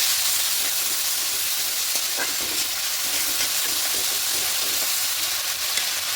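Onion paste and tomato paste sizzling in a hot pan over a raised gas flame: a loud, steady hiss of frying that stays continuous and close throughout.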